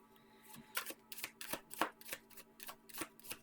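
Intuitive oracle cards are shuffled by hand, a quick series of crisp riffling slaps and flutters repeating in a steady rhythm, close and alone without any talking.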